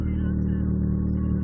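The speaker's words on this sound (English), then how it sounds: "Revving kind of high right now" A 1996 Mitsubishi Eclipse engine idles high with a steady, even drone and hum, close and constant throughout.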